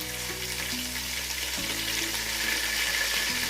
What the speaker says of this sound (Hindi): और इसको भी फ्राई कर लेंगे।